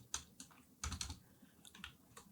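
Quick bursts of keystrokes on a computer keyboard in short irregular clusters, close and fairly quiet, with brief pauses between the groups, while a path is entered during Gradle setup on Windows 11.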